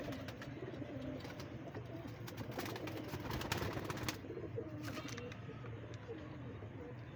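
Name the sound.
pigeon cooing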